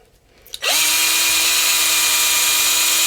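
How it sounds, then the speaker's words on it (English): A power drill bores a hole for coax through an antenna feedpoint: a brief handling noise, then the motor spins up sharply into a loud, close, steady whine that holds to the end. "you want to put the drill bit in like"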